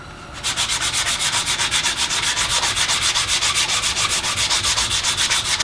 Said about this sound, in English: I'm just going to give it a rough sanding, some 120.